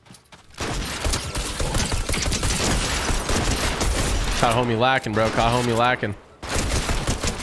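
Pistol gunfire in Fortnite cracks out in rapid, continuous loud shots for several seconds, mixed with game effects and a brief pause, while someone talks over it.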